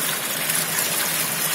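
Water flows steadily through a triangular V-notch weir in a lab open channel, a continuous broadband rushing and trickling hiss with no talk.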